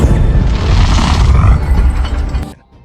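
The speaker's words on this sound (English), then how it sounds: "hides behind the table before causing an explosion" A loud, dense burst of rumbling, crackling noise with mechanical clatter that sustains for over two seconds, then cuts off abruptly into near silence.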